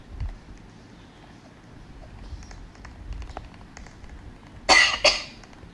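A character in the Roblox Natural Disaster game coughs twice in quick succession near the end, two sharp, loud bursts following quiet background game noise.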